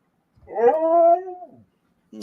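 A dog lets out one drawn-out, wavering howl that slides into a whimper, close and clear against silence, followed by the start of another short vocalization.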